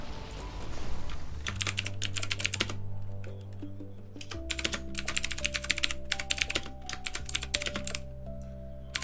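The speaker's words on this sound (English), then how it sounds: "My new keyboard is loud as hell." Rapid, clacky keystrokes on a loud new computer keyboard, played over a soft backing tune, arriving in dense bursts with brief pauses and close to the microphone.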